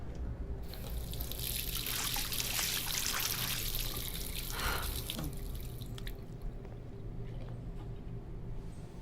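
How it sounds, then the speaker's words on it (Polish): Water runs into a sink in the video game Life is Strange, a steady trickling and splashing stream with drips, moderately loud, that fades out after about six seconds, leaving a soft background hum. "Zlew."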